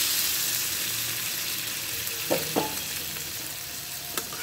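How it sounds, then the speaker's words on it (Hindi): A pan of potato and soybean curry sizzles steadily with a hissing fry, then a few clinks and splashes as water goes in, the sizzling continuing throughout. "अब हम पानी दे देते हैं।"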